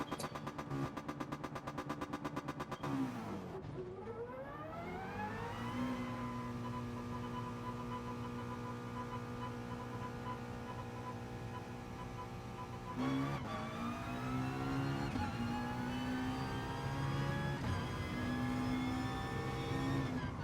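Race car engine in GT Sport held at full throttle, a loud rising whine that climbs through gear changes with brief dips between shifts, steady and close.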